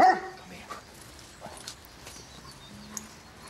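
One of a family's two dogs gives a single short bark at the very start, followed by faint indoor room noise and a few soft knocks.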